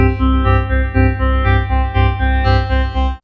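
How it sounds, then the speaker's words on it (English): A bright, buzzy Blofeld synthesizer arpeggio with a triangle wave oscillator repeats in steady pulses, about two notes per second, loud and processed, with a sharper layer entering near the end. "So we can pick like a triangle wave just to beef up the sound."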